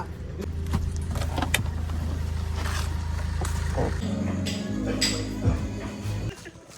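A Toyota Fortuner SUV at night: its engine hums steadily with clicks and rattles over it, then the tone shifts and drops away near the end.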